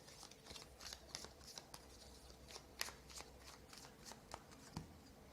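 Tarot cards are shuffled by hand close up, quiet crisp riffles and slaps in an irregular rhythm, with no talking.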